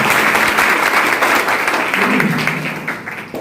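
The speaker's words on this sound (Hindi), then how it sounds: "ताली बजाओ एक बार।" A group of children claps loudly together at a legal literacy program, the dense applause holding strong before gradually thinning and fading toward the end.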